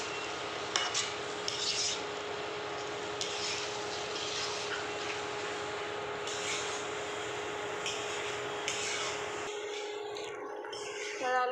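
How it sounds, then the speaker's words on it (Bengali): Spice paste of green chilli and sour yogurt being stirred and fried in a pan for a paneer curry, with steady scraping and sizzling throughout and a brief quieter stretch near the end. "ভালো করে নেড়ে চেড়ে আর একবার ভালো করে কষিয়ে নেব"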